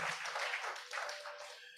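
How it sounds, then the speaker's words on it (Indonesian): A church congregation applauds in a soft, continuous wash of clapping that sounds distant and faint and lasts under two seconds. "Tepuk tangan paling mulia buat Tuhan Yesus."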